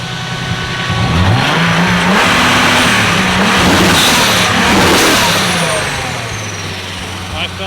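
A BMW E36 wagon engine revs loudly and close, rising and falling in pitch under a steady drone of driving, with someone talking over it.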